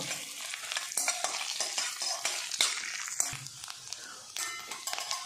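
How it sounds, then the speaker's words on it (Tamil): Bay leaf and fennel seeds fry in a pan with a broad steady sizzle, punctuated by several sharp scraping stirs and light clinks of a utensil against the metal. "பிரியாணி இலை, கொஞ்சமாக சோம்பு, இதை போட்டு கொஞ்சம் நல்லா வறுத்துக்கலாம்"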